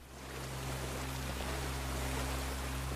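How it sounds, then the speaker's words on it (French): Steady, dense roar of rushing water from a waterfall inside a cave in the pirate video game Sea of Thieves, constant and fairly loud with a low hum beneath, no speech. "Un bruit de cascade."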